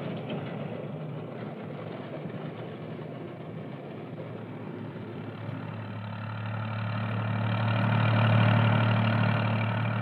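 Standen Cyclone self-propelled harvester engine in the Fens, a steady mid-low engine drone that swells slightly louder toward the end, heard alone.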